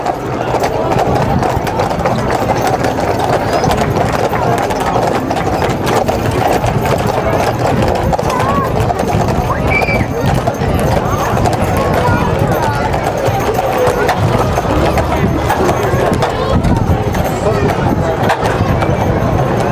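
Many Budweiser Clydesdale hooves clop in a dense, continuous patter on pavement in Springfield, Kentucky, with crowd noise and voices mixed in throughout.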